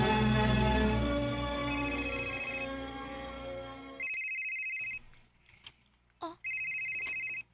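A telephone rings in a drama scene, two bright electronic ring bursts separated by a pause, following a stretch of music and voices with a short vocal sound between the rings.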